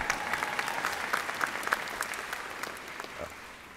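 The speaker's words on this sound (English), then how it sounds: "Yeah, you can clap." Scattered, fairly distant clapping rises from a graduation ceremony audience at a university commencement, with individual claps audible in the mix before it tapers off toward the end.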